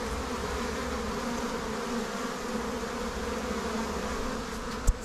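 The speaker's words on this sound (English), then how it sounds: "When you have these kind of bees over here?" A steady, humming buzz of honey bees swarms nearby, constant and layered, with one brief sharp knock near the end.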